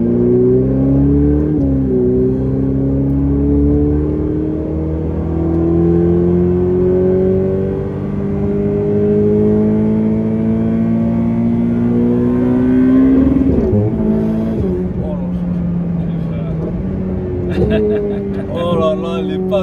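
A Ferrari 488 Pista with a full titanium sport exhaust revs hard and loud, its engine note climbing and falling in aggressive sweeps with sharp crackles on the shifts, heard up close.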